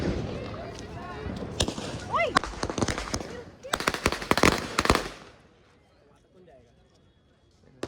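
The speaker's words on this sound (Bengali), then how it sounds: "সবাই এখানে বাজি ফাটাচ্ছে" Diwali firecrackers bursting outdoors along a seafront area, a rapid run of sharp loud cracks and pops in bursts, with voices and crowd chatter around them before the noise fades to quiet.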